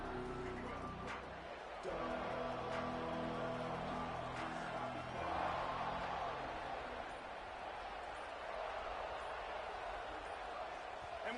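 Stadium crowd roar from an NCAA college football video game, a continuous broad wash of cheering that swells in the middle, with a commentator's voice talking over it throughout.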